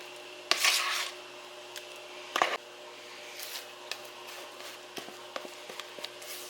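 A spatula spreads apple cake mix in a casserole dish, making a couple of brief rubbing scrapes followed by scattered light taps and clicks, close and quiet with no voices.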